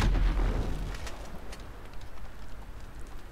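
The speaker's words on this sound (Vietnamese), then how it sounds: "Súng như súng hạng nặng." A heavy weapon fires in the video game GTA V, with a deep booming blast at the start that decays into a rumbling, hissy tail with faint scattered sounds behind it.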